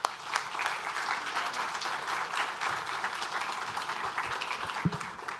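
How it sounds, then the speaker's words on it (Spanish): Audience at a lecture honouring a speaker breaks into steady, dense applause that fills the room throughout, many hands clapping at once with a few louder claps standing out. "Un aplauso para Ariel primero."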